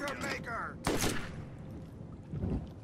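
Gunfire in the Borderlands video game: a short burst of shots followed by a sharp loud blast, then a fading rumble and another softer hit, with a voice talking over part of it.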